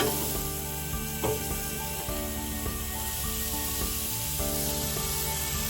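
Smash burger patties frying on a griddle, giving a dense, steady sizzle with a few scraping spatula taps, close and constant, with no talk.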